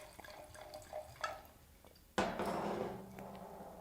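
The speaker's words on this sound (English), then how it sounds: "Pour ourselves a glass." A 2019 Casar de Burbia Barrica wine is poured into a glass, with a few soft drips and clinks and then a sudden steady close splash of liquid filling the glass.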